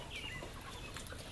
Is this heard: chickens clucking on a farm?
yes